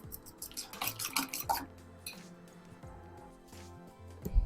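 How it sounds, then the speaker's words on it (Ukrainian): A fork clinks rapidly against a bowl while whisking an egg with spices and sour cream, a quick rhythmic metallic tapping that is fairly faint and trails off after a couple of seconds. "І зб'ю виделкою."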